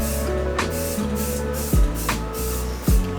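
A primer coat being spray painted onto a steel bash bar outdoors, with continuous close hissing spray broken by a few brief pauses and sharp bursts as the nozzle is pressed and released.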